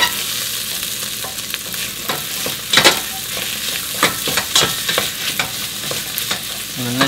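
Onions caramelized in a pan with cranberries and apricots are stirred, giving a steady close sizzle broken by scraping strokes of a spoon against the pan and a few louder clacks.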